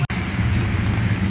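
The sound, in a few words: rain falling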